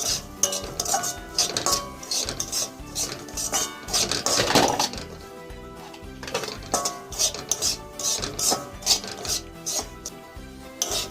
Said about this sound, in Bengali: সুজিগুলো ভালো করে ভেজে নিতে হবে